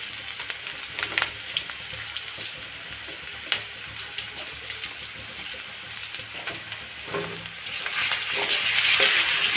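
Ginger and onion frying in a pan for a village-style fish dish, a continuous bright sizzle with occasional clinks and stirring, building a little louder near the end.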